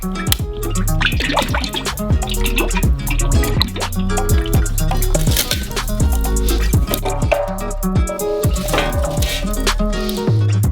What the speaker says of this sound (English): we start pouring hot oil on top of the skin with the ladle right on top of the skin until it turns practically into chips